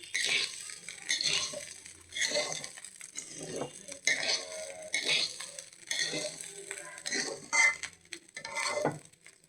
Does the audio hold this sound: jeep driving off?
no